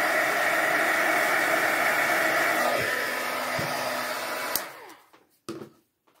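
Heat tool blows steadily and loudly over a Halloween easel craft card, melting its clear backing on scrap paper, a continuous hiss that stops abruptly near the end, followed by a few brief clicks and handling sounds.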